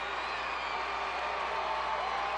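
Spectators at the 2004 SEC Gymnastics Championships arena cheer after a Georgia routine, a dense, steady wash of crowd noise and applause that holds evenly, heard from within the stands.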